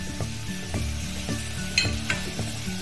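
A spoon stirs chicken soup in a pan after chili sauce, soy sauce and vinegar go in. A steady hot sizzle runs throughout, broken by several soft scraping strokes of the stir, with no voices.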